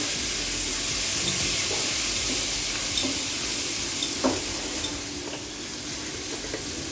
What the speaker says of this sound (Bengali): চিকেনটা আমি কিছুক্ষণ রান্না করে নিব